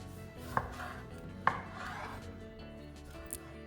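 Garlic cloves in their skins are lightly crushed with a knife on a board, giving two distinct sharp thuds about a second apart over a quiet kitchen background, then a fainter tap near the end.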